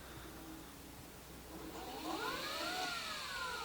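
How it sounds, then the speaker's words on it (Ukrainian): A FADA IDEA electric motor under repair spins up on a bench power supply, a faint whirring hum that rises in pitch and strengthens partway through, heard alone without talk. "можна бачити, що двигун наш обертається"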